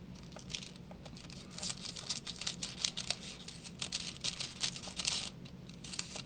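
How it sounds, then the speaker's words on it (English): Scissors snip through a sheet of craft foil cut to heart size, giving a run of quick crinkly clicks and rustles, close and fairly quiet, with no talking. "I'm just going to cut a piece of my foil the size of my heart"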